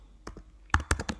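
Computer keyboard typing, a short quick run of crisp key clicks heard close and fairly quiet, with a pause before several louder taps.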